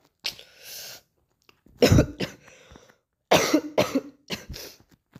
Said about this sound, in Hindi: जैसा कि देख सकते हो मेरे बहुत तेज़ वाली खांसी हो रही है